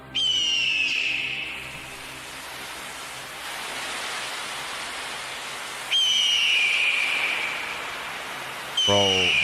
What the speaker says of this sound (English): Bro, the birds sound crazy